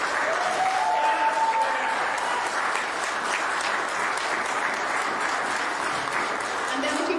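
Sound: congregation applauding in church

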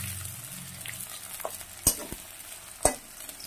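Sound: stir-frying capsicum and carrot in a pan

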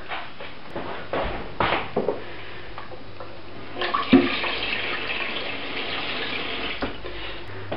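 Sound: water poured into saucepan with fish

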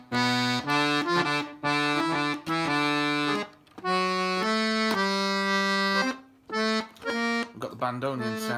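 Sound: chromatic button accordion playing with bandoneon stop

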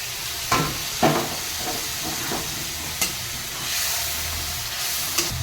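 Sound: water poured into hot spice gravy in pan

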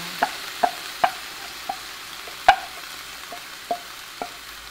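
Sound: fish frying in a pan

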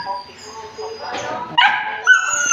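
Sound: pet dogs barking and whimpering eagerly at feeding time

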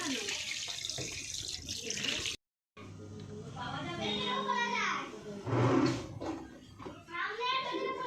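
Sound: washing fish under running tap water

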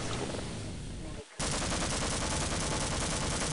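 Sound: gunfire in video game Half-Life

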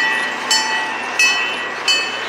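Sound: passing train

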